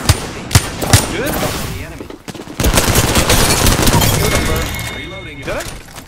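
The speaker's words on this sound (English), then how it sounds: "I'm taking shots." Rapid bursts of automatic gunfire from a squad-based shooter video game crack through a steady, dense wash of battle noise, with a voice talking over the shooting.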